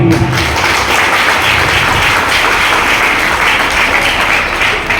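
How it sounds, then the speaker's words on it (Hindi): Loud, dense applause from a gathered crowd at a school Independence Day function, continuous vigorous clapping held at an even level throughout. "एक बार संस्थापक महोदय के पूरे परिवार के लिए जोरदार तालियां।"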